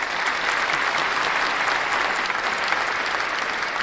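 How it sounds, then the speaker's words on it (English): A crowd applauds in a steady, even wash of clapping that holds at a moderate level throughout, with no speech over it. "Let's give that a clap as well."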